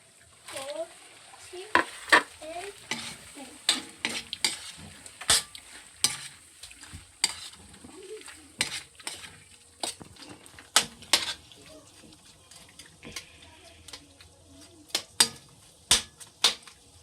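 Shrimp frying in a pan while being stirred, with a soft sizzle under repeated sharp scrapes and clacks of a utensil against the pan, coming in irregular bursts, close and moderately loud.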